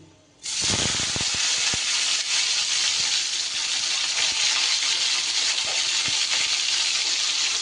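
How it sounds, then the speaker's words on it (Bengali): Panch phoron and a burst chilli hit hot oil in a pan. A loud sizzle starts suddenly with a few sharp crackles, then holds as a steady, close hiss. "লঙ্কাটা ফাটিয়ে দিয়েছি আর দিয়ে দিলাম খুব সামান্য একটু পাঁচ ফোড়ন"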